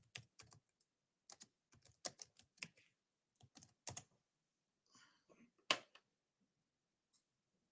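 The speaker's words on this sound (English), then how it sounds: "Let me type it." Someone types on a computer keyboard in short bursts of quick, crisp key clicks separated by pauses, faint and close, with no talk during the typing.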